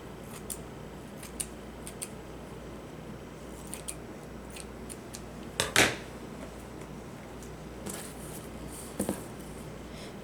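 Scissors cut green shiny fabric with a few sharp snips, one louder cut in the middle, amid faint handling rustles and long quiet stretches.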